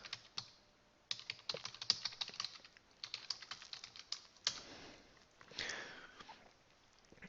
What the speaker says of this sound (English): what I'm going to do here is just type in the keyword